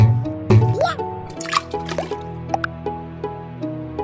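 Small water drops dripping in a gentle, irregular series of bright plinks over a soft background with a musical tone, each drop short and close.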